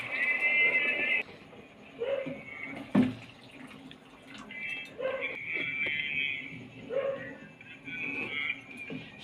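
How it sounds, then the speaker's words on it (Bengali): Hot water poured from a bowl onto uncooked rice in a kitchen, a moderate splashing pour with short pauses and faint clinks, fairly close. "এক বাটির একটু বেশি গরম জল দিচ্ছি।"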